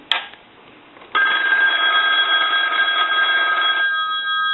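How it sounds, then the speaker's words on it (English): The bell of a 234G three-slot payphone ringing close up, a short first ring followed after a pause by a long, loud, steady metallic ring that fades slightly toward the end. "I'm going to go ahead and ring the telephone for you."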